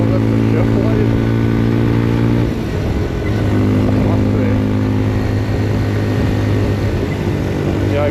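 A Papio SS mini-moto motorcycle climbs a hill at full throttle, its engine drone loud and close with steady harmonic tones that briefly drop and shift, as if changing gear, before holding again.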